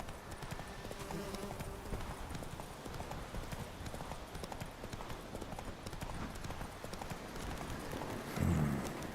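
Roach, Geralt's horse in the video game The Witcher 3, gallops steadily, its hooves clopping in a fast, continuous rhythm throughout, with a brief snort or louder thump near the end.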